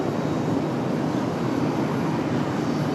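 Southwest airliner at Raleigh Durham International Airport at night, a steady mid-loud engine roar with a broad, even rush that holds unchanged for a few seconds.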